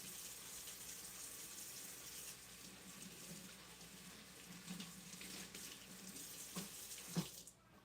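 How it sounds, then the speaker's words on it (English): A kitchen tap runs steadily while hands are washed after handling raw steak, the water hissing in a continuous close stream with a few louder splashes near the end. "I need to wash my hands because I just touched raw meat"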